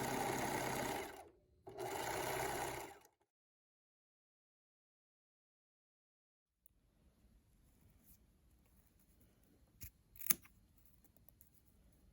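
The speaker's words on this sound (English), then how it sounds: "I will top stitch all the way that tiny zigzag and clip all these sections." A sewing machine runs up close in two quick bursts, top stitching a tiny zigzag on fabric, then falls quiet before faint handling noises and a couple of sharp snips.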